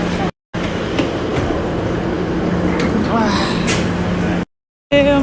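A train rumbles past nearby with a steady low drone and rattling, a continuous mechanical roar broken by brief gaps.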